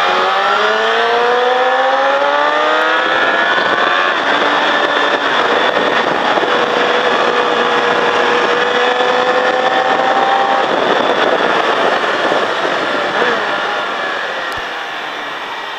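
A motorcycle engine roars continuously on the race track at Mettet, loud and close, its pitch sweeping up and down through gear changes and throttle as the bike laps, fading slightly at the end.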